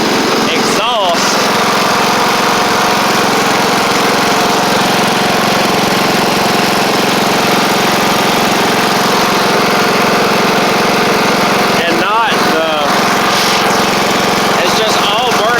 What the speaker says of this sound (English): I just need to maybe run it a little bit just to get all that stuff off